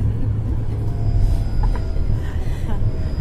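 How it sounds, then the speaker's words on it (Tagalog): A train passes with a steady low rumble and rolling noise throughout, moderately close, with faint squeaks over the top and no clear talk. "Personal train."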